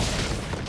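Brief burst of dense gunfire in Fortnite, a loud booming crackle filling the whole short moment with no pause.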